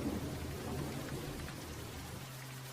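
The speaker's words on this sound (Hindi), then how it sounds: "बाहर तेज बारिश हो रही थी।" Heavy rain pours down outside in a steady, dense hiss with a low rumbling undertone, constant throughout and with no voices.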